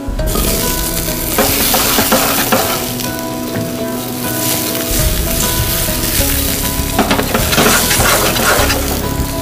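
Vegetables fry in oil in a generously salted frying pan, a loud, dense, continuous sizzle close up, with occasional stirring rattles over the hiss.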